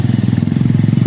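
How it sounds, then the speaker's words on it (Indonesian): A farmer's motorcycle returning from the mountains in a rural farming area runs with a loud, close, steady engine pulse throughout the brief moment, with no voices. "Dan itu ada motor yang mungkin dari gunung para petani sahabat ya."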